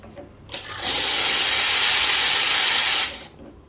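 A Lelit Mara X espresso machine's steam wand purges: a loud, steady hiss of steam blasts for about two and a half seconds, then cuts off sharply.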